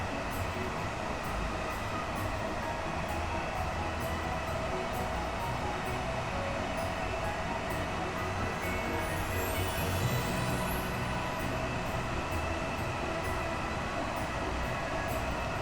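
A London commuter train in Train Sim World runs through snowy, icy weather, its steady rumble and rolling wheel noise loud and continuous from start to finish, with a faint rising squeal near the middle.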